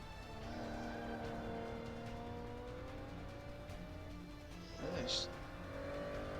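A sports car on a racing circuit drones steadily as it drives into the first corner, with a brief tire squeal near the end. Someone talks over the engine noise.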